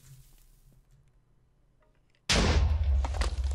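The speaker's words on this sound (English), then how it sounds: "Explosions!" In Minecraft, after a quiet stretch of faint ticking, a sudden loud, broadband explosion bursts in and rumbles on with crackling debris to the end.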